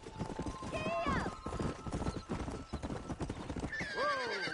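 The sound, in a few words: horses galloping in video game Red Dead Redemption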